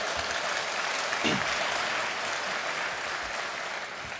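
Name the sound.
audience applause at a sustainability event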